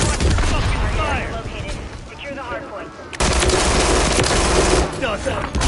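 Gunfire in the Call of Duty Modern Warfare III video game, a dense continuous crackle of automatic weapons under shouted in-game voices, growing louder and sharper in the second half.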